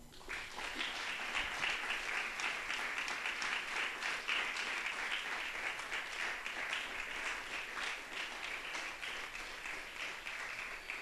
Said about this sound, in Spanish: Brinden un aplauso al Señor.